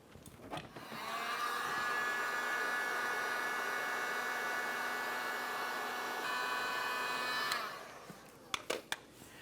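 A heat gun warming the adhesive behind a 2006-2011 Honda Civic emblem, a steady loud blowing whine running about six seconds, framed by clicks and handling noise at start and end.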